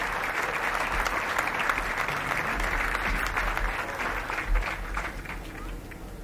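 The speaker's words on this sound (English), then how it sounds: "Let's give a round of applause to Staff Sergeant Edward Sears." A crowd at a 101st Airborne Division change of command ceremony applauds for a staff sergeant, a steady wash of distant clapping over low rumble, probably outdoors, with some faint voices mixed in.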